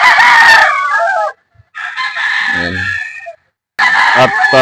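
A rooster crows loudly and up close, followed by more long crows, with hens clucking around them.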